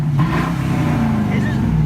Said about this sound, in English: His car idles so much louder.